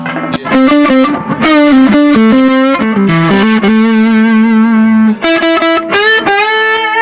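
Electric guitar played through distortion on a Line 6 HX Effects unit, loud and steady, with sustained held notes and short strummed phrases over about seven seconds; no talking.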